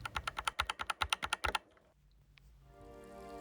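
Typing on an ilovbee i87 mechanical keyboard with freshly lubed switches, around a dozen quick keystrokes with a slightly softer, deeper clack, close up, followed by quiet room tone.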